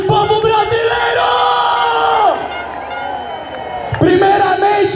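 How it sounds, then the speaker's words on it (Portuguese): A large crowd at an Independence Day political rally on Avenida Paulista claps and cheers in a loud, continuous roar, with shouting voices rising over it and a brief dip before the noise surges again. "Uma salva de palmas para você"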